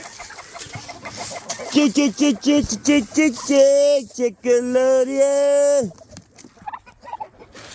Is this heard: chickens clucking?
yes